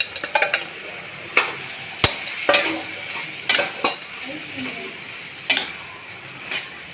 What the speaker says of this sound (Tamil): இது இப்படியே இதுலேயே வதங்கட்டும்.